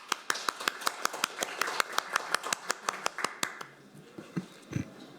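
Audience applause at a policy forum on delayed PTSD and veterans' policy, heard as sharp, closely spaced claps near the microphone that thin out and give way to faint voices and shuffling.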